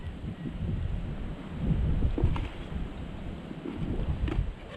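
Strong wind by a fast-flowing river, low rumbling gusts buffeting the microphone, swelling louder in the middle and again near the end, with no talking.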